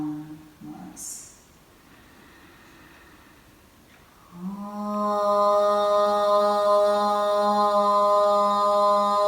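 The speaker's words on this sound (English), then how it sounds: "Inhale to chant the long Om noise." A long sustained Om is chanted by a single voice during a yoga session. It begins after a soft inhale and some faint low vocal sounds, then swells into a steady, resonant hum that holds to the end.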